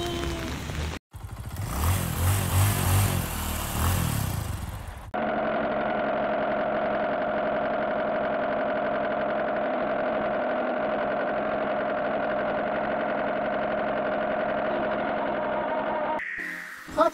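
A toy Hot Wheels 2024 Batman and Robin Gotham City Dodge sounds off with an electronic engine effect, a brief rising rev at first, then a long steady hum at an even level before it cuts out.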